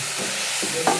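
A spatula stirs Kerala-style thoran in a pan, one brief scrape and sizzle with a louder scrape at the end, close and alone.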